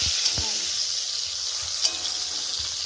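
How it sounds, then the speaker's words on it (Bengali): Eggplant slices sizzle steadily as they fry in a pan in a village home kitchen, a dense continuous hiss with a couple of sharp pops and faint clinks, no one talking. "রান্না হচ্ছে বেগুন ভাজা।"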